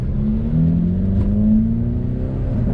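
Hyundai Elantra N engine pulling away and accelerating, a steady, loud rising drone with climbing harmonic tones, heard from inside the car without talk.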